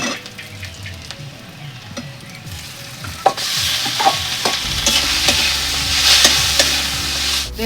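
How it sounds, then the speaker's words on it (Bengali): Katla fish goes into a hot pan with chopped ginger and onion, sizzling and frying steadily while a spatula scrapes and knocks in repeated stirring strokes, growing louder once the fish is added. "এবার আদার কুচিটা দিয়ে দেবো এর মধ্যে, দিয়ে এবারে মাছটা দিয়ে দেবো।"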